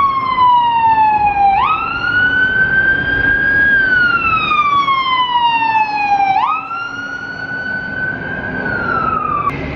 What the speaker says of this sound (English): Got some ambulance coming.